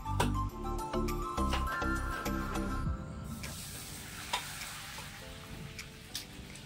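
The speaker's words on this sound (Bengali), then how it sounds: "এবার এটাকে আমি ভালো করে ভেজে নিচ্ছি।" Onion paste fries in hot refined oil, giving a steady hiss and sizzle that takes over after a few seconds of tonal music, with occasional louder pops.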